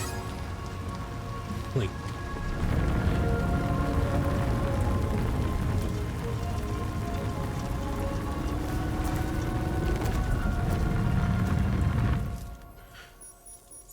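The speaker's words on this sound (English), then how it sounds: "just her being outside causes rain?" Steady rain pours in the Death Stranding 2 video game, a dense hiss that holds loud for most of the stretch before cutting off abruptly near the end, with a brief spoken word at the start.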